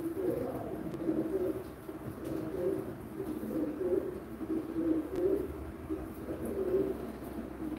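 Pigeons coo continuously at a live bird auction, a steady overlapping murmur of low cooing phrases in a cage-room setting with background noise.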